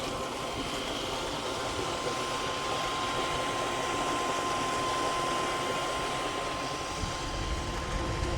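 A small-motored BLDC solar water pump runs continuously with a steady droning hum and rushing flow, loud and unbroken throughout.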